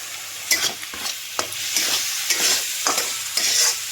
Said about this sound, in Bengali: এবার সব শুদ্ধ একসঙ্গে ভালো করে মশলার সঙ্গে মিশিয়ে নেব